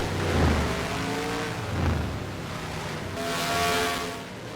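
Racing video game car engine on a fast qualifying flying lap, a steady broad roar with harmonic lines that rise and fall as the car shifts and brakes into the stadium section and onto the main straight.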